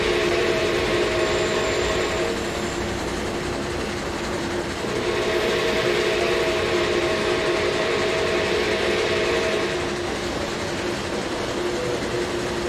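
Train in Train Sim World rolling past a trackside detector, a continuous steady rumble with faint rhythmic wheel clatter throughout, loud and sustained with no talk.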